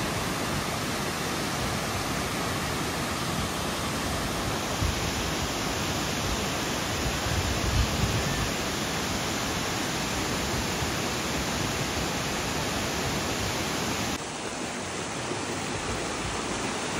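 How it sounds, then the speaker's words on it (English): Rushing water roars continuously, a dense broadband wash of a waterfall heard up close with no talk, steady throughout. "And here is a waterfall sound test."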